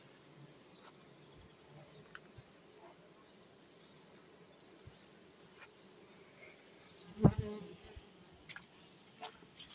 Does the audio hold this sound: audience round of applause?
no